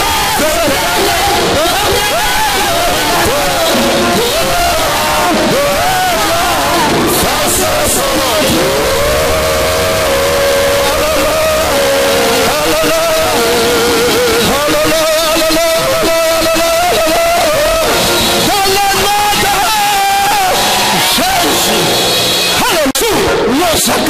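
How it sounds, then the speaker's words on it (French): A church congregation acclaims loudly, with continuous shouting, cheering and yelling from many voices blending into a dense, sustained roar that never drops away. "acclamation"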